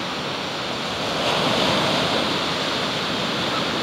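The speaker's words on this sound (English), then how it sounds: "It's a gorgeous morning on the beach." Surf washes onto an Outer Banks beach on a calm morning, a steady broad rush of waves that swells slightly partway through, moderately loud with no voices.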